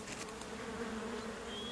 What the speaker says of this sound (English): sand wasps excavate 5-inch deep tunnels where they lay a single egg